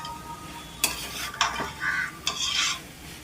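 Shredded chicken is stirred with masala in a hot pan. A spatula scrapes in a few distinct strokes over a soft sizzle, close up, with no voices.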